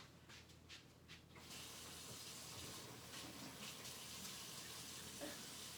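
Hands are washed under a running kitchen tap, a steady close splashing stream of water with some rubbing at the start, continuing alone without talk.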